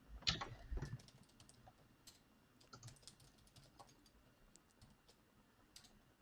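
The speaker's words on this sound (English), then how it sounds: "My typing is not getting better over time." Quiet, steady typing on a computer keyboard while coding, a fast run of close key clicks, with a couple of louder thumps at the start and lighter irregular tapping after that, and no talking.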